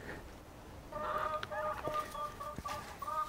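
Chickens cluck in short bursts, several birds nearby, with a low background hum and a few clicks.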